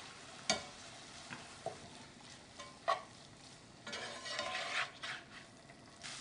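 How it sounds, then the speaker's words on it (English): Ground beef fries with a soft, steady sizzle in a pan with chopped tomato, punctuated by a few scraping stirs and taps of a utensil, quiet and close. "I'm going to return the beef to my pan."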